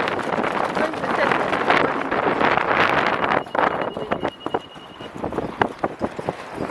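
Strong wind roars and buffets the microphone at Rockley Park boat yard beside a rough sea, a continuous blustery rush that eases slightly halfway through into gustier, choppier bursts.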